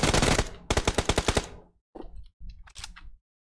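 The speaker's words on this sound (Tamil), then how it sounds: "எங்க திரும்பினாலும் எனிமி ஃபயரா இருக்குடா" Automatic gunfire from the video game PUBG cracks out in loud rapid bursts, a long rattling volley followed by shorter scattered shots and brief silences.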